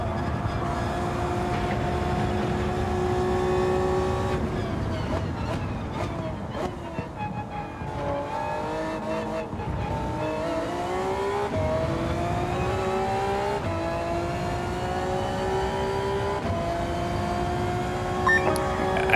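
Race cars in Gran Turismo 7 at Suzuka, Toyota Supras and a McLaren F1 long tail chasing a GT500 car, engines revving and shifting through gears with rising and falling whines, loud and close, sustained throughout with a voice faintly underneath.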